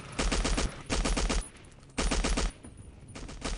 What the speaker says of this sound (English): so I'll just open up with the machine gun